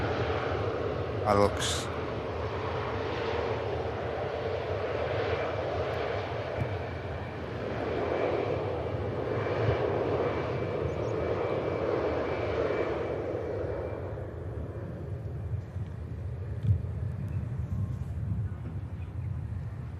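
A TUI airliner taxis past at Manchester Airport with a sustained jet engine whine and rumble that swells and then fades toward the end, while a person talks briefly early on.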